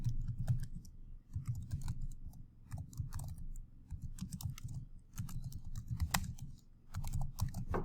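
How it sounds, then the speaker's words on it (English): Typing on a computer keyboard, quick irregular clusters of close, soft key clicks running steadily throughout with no speech. "I would just type in please sign in"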